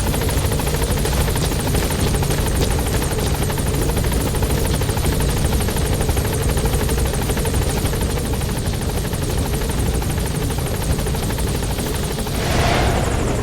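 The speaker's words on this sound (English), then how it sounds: "Support helicopter has arrived." A support helicopter in Metal Gear Solid V hovers at a landing zone, its rotors producing a loud, continuous thudding drone that holds steady for the whole stretch with no voices.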